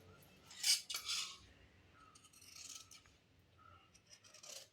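Scissors snip through skirt fabric along a marked line during tailoring, giving faint, close crisp cuts, two sharp snips early followed by quieter rustling and a few more soft snips.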